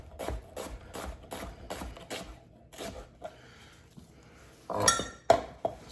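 A knife slices through a small white onion on a cutting board in a row of evenly spaced, crisp chopping taps, followed by a louder clatter as the pieces are gathered and moved.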